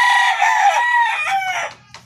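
Bulik gamefowl rooster crows once, close and loud, a full cock-a-doodle-doo that trails off, followed by a few faint clucks.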